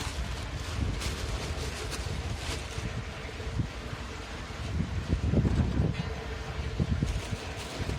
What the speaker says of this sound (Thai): ลมค่อนข้างแรงนะครับ